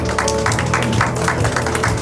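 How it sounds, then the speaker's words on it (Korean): An audience at a book launch talk claps briefly, a short burst of moderately loud applause filling the room. "큰 박수 부탁드립니다."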